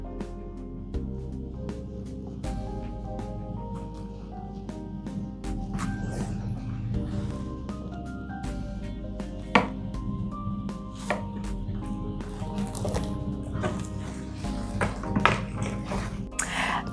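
A knife slicing through a raspberry marshmallow lamington on a chopping board, with soft taps and cuts scattered through the clip beneath steady background music.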